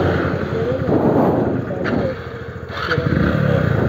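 Small engines of a Hero Splendor Plus motorcycle and a Honda Activa scooter rev together at a drag race start, a loud continuous rumble with surges and brief bursts of higher throttle.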